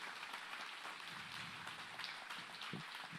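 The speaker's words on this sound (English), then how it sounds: "let's give Dr. Chris McKinney a round of applause for being here" An audience at a church Adult Bible Fellowship applauds guest Dr. Chris McKinny, a soft, even, rain-like patter of many hands clapping that sounds faint and distant throughout.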